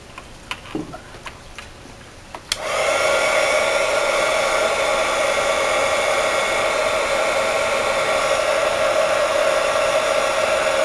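After a few faint clicks and taps, a heat gun switches on and blows with a steady, loud fan whine and rushing air, held continuously over hot glue art with no talking.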